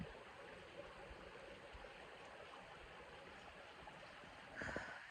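A steady, soft rush of flowing water runs throughout from a small creek outdoors, with a brief splashy burst near the end.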